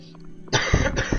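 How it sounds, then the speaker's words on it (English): A burst of harsh coughing from a person with a cold, close by, two or three rough coughs running together after a brief quiet moment. "Sorry if I'm coughing too much, because I just have a cold recently"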